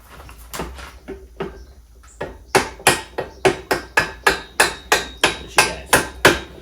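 A hammer tapping an old bolt into place, starting with a few scattered light knocks and then settling into a steady run of about a dozen sharp, evenly spaced metallic strikes, close and clear.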